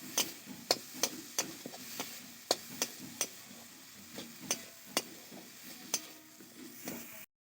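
Ground peanut paste frying in a pan gives a quiet, steady sizzle, punctuated by regular sharp taps and scrapes of a utensil stirring against the pan.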